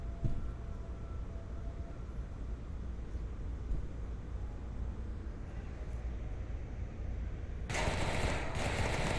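Continuous gunfire from an Onward VR match, a dense steady wash of rapid shots throughout that swells into a brighter, louder burst near the end.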